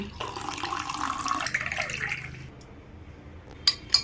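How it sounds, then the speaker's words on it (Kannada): Water pours into a glass at close range as a gurgling, rising stream for about two seconds and then tapers off. Two sharp clinks follow near the end. "ಈಗ ನೀರು ಹಾಕೋಣ"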